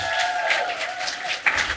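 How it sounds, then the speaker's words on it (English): Audience applause and crowd noise at a live podcast show in Hartford, Connecticut: a steady wash of clapping that holds at an even level for just under two seconds, with a few sharper claps near the end. "Give yourselves a round of applause for making it out to the show."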